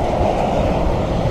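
A heavy truck rumbles past close by on a road near a lagoon and bridge, a steady loud low roar with wind buffeting throughout, no speech.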